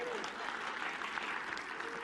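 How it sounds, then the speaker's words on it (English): Applause from a conference audience during a Microsoft Ignite 2015 talk on OneDrive for Business, a steady wash of clapping hands lasting about two seconds at moderate volume. "That's the first time I get a clap."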